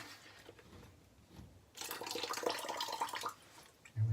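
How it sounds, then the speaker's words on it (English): Water from a corroded bathroom plumbing fitting, just removed, drips and trickles in a faint, close splash lasting a couple of seconds. "it's going to drip some"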